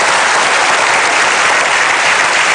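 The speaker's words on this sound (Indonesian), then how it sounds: "Kita berikan aplaus dulu dah" A TV studio audience applauding, dense steady clapping from many hands, loud and close, with no talk over it.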